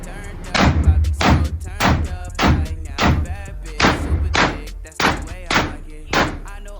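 Suppressed and unsuppressed guns firing about a dozen sharp rounds in a steady sequence, each a loud close crack with a short decaying tail, some heavier and some muffled.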